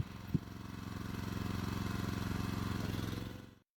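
Small walking tractor engine running in a farm field, a steady chugging mid-pitched drone at moderate distance with one brief knock near the start, cutting off abruptly at the end.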